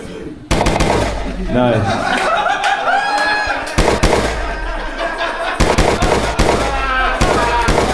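Rapid bursts of gunfire sound effects crackle loudly in quick volleys, mixed with laughter and chatter from several people in a lively comedy show setting.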